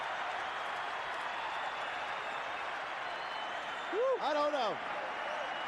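A boxing crowd at a big title fight applauds and roars at the final bell as a steady, dense wash of clapping and cheering, with someone speaking briefly over it near the end.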